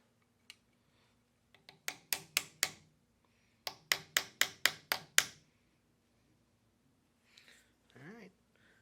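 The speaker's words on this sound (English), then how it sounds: "we're going to use a hammer and a non-marring punch." A hammer taps a non-marring punch to drive an XS night sight into the dovetail of a Canik TP9 SF pistol, giving sharp metallic clicks in two quick runs of about four and six strikes, quiet and close.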